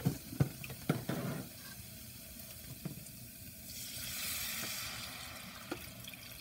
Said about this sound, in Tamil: வச்சுட்டு இதில் தண்ணி ஊற்றிட்டு இந்த மசாலோட அந்த பச்சை ஸ்மெல் எல்லாம் போகிறதுக்கு நம்ம வந்து கொதிக்க விட்டுருவோம்.